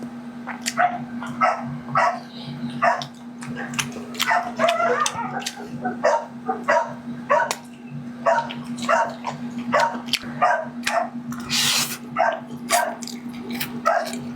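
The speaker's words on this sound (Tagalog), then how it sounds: "kaya maingay yung mga lalaking aso" Several dogs bark repeatedly at home in a steady, irregular series of sharp, loud woofs over a constant low electrical hum, with a brief hiss partway through and no talk.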